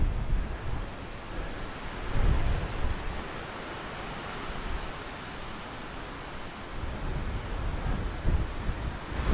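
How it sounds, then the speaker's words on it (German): Steady outdoor wind rushes and buffets the microphone on a hilltop during a bicycle tour, with gusts rising and falling over several seconds and no voices. "Ja, der Wind, der bringt auch ein anderes Wetter mit sich."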